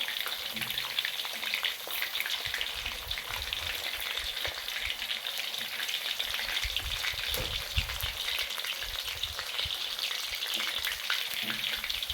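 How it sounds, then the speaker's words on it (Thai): Dried beef frying in hot oil gives a constant dense sizzle and crackle, close and steady throughout, with faint stirring clinks under it. "จะทอดเนื้อแห้งให้สุกก่อนนะคะ"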